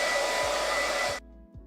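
A hair dryer blows loudly and close for about a second, a dense, steady whoosh that cuts off abruptly, followed by a short quiet tail.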